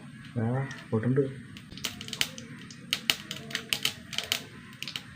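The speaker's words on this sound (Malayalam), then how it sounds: "കടുക് പൊട്ടട്ടെ" Sharp, irregular crackling pops of mustard seeds spattering in hot oil follow a brief stretch of speech at the start.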